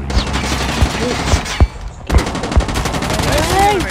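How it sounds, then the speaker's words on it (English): Rapid bursts of video game gunfire crackle close and loud, sharp repeated shots in uneven clusters with a brief gap midway, while a voice talks over the action. "I hear some shooting"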